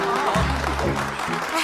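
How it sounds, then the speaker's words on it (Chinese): Classmates in a classroom give a round of applause for a student, a brief patter of clapping heard under a person talking loudly up close. "我们一起给她掌声鼓励一下"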